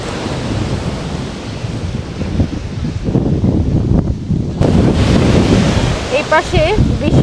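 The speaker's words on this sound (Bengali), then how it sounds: "পাশে বিশাল সমুদ্র" Ocean waves roll in at a beach during a kite festival in Babylon, USA, a constant roaring surf mixed with gusty wind buffeting the microphone, and a voice briefly audible near the end.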